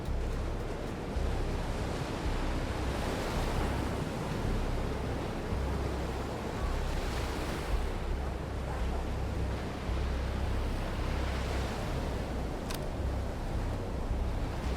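Sea waves roll and wash ashore on the Hawke's Bay map in the video game Hitman 2, a constant hissing surf with slow swells and low rumble, heard alone without talk.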